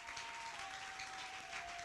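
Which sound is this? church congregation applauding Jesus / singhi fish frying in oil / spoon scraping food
church congregation applauding Jesus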